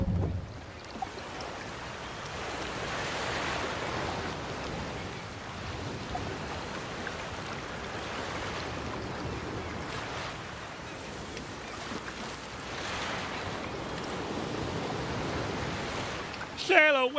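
Ship sailing over ocean waves in the video game Lost Rift, a steady broadband wash of water and wind that stays fairly loud throughout, with a brief sharper sound at the very end.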